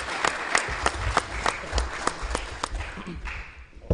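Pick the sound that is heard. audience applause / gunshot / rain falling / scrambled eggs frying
audience applause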